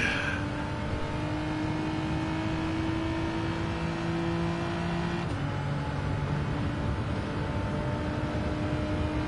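Ferrari engines in a racing video game, one steady loud drone that holds near-constant pitch with a small shift midway, alone with no talk.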